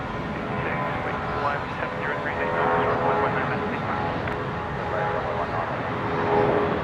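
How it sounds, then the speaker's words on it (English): Jetstar jet airliner departing Brisbane for Melbourne, a continuous broad engine roar at moderate distance, mixed with occasional voices underneath. "Here we go, Jetstar 569 heading down to Melbourne"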